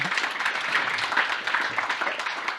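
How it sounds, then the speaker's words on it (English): An audience at an alumni reunion summit claps in a dense, sustained burst of applause lasting a few seconds, evenly loud throughout with no talk over it. "you did a lot of additional clapping"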